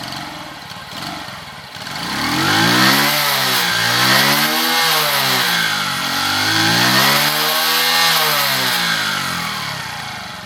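A derestricted Masai Greystone scooter engine revs up repeatedly from idle, rising and falling whines in smooth waves, loud and close, with no talk.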